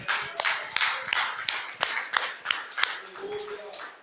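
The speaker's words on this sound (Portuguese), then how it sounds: "Pode aplaudir que agora eu vou entrar no assunto de Paulo." Scattered applause from a church audience at a sermon on Paul's eschatology, uneven sharp claps over a constant background hiss, with a brief low tone near the end.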